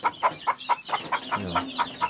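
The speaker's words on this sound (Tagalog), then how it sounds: "Madami yan, mga sisiw." Chickens and chicks on a Filipino farm cluck in a steady series of about nine evenly spaced calls, moderately close and clear, with a low rumble partway through and no talking.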